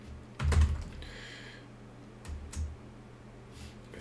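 Fingers type a Linux command on a computer keyboard, a short burst of clicks followed by scattered single keystrokes, close and fairly quiet over a soft background hum.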